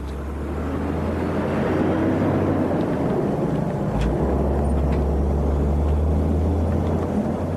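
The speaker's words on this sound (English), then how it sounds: "an Australian mining company that operates the longest truck in the world" A 205-ton, 160-foot custom-built Australian mining road train with a 550-horsepower engine and 18-speed gearbox drives past, a steady, loud, low engine roar with broad rumbling road noise throughout and no talking.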